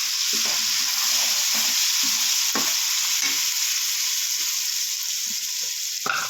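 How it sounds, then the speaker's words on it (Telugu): Tomato paste is worked into frying masala for a fish pulusu, with a loud continuous sizzle up close and irregular scraping stirs of a spoon against the pan. "వేసుకొని కలుపుకోవాలి"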